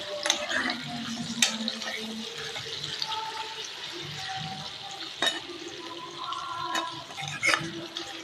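Sliced bitter gourd (kakarakaya) sizzles steadily as it fries in oil in a pan, a continuous crackling hiss with occasional clinks of stirring.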